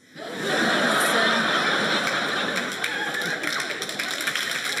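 A television studio audience at a comedy show breaks into clapping mixed with chuckles, rising sharply after a brief quiet start and holding as a dense, steady wash of applause and laughter.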